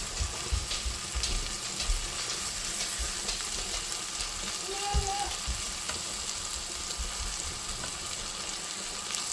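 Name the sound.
chicken seasoned with smoked paprika frying in a pan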